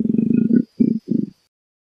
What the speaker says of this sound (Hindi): हाँ मतलब दहाड़ने की आवाज आ रही।